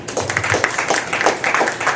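Brief burst of audience clapping at a small comedy night in a bakery cafe, dense and moderately loud for about two seconds with faint voices underneath.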